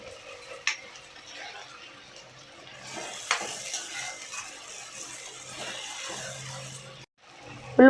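Onions frying in a pan after a salting, with a steady soft sizzle and occasional stirring scrapes and light clinks of a utensil against the pan, close and fairly quiet.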